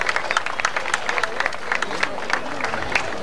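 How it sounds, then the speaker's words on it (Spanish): A crowd at a gaucho festival at an agricultural school claps for a rider, steady light applause with distinct scattered claps, while an announcer's voice carries over it. "el aplauso entonces para Lorena"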